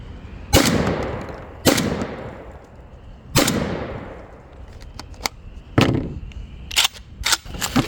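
A JTS AK12 semi-automatic 12-gauge shotgun fired outdoors at a target, several loud booming shots spaced a second or more apart, each with a long echoing tail, plus a few sharper cracks later.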